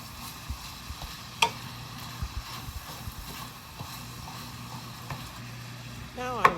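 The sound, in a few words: butter and sausage sizzling in a frying pan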